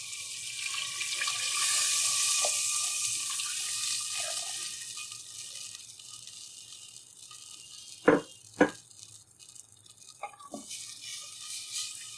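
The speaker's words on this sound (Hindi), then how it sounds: "अब इसमें मैं 2 कप पानी डालूंगी।" About two cups of running water pour steadily into a pot of spiced beef, then fade, followed by a couple of sharp metallic clinks and quieter rustling.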